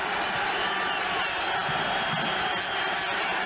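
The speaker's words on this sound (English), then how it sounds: "Crowd now rising." A stadium crowd at a CFL East Final football game between the Winnipeg Blue Bombers and Montreal Alouettes, a steady dense roar of many voices rising together, constant and loud throughout.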